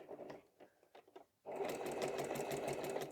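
A sewing machine stitches straight diagonal quilting lines, starting after a few faint clicks and handling sounds and then running as a steady, close, continuous whir.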